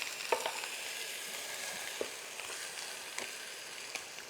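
Pig trotter meatball stew cooking in a pot, a soft, steady bubbling sizzle with a few faint clicks of utensils, quiet and close with no talking.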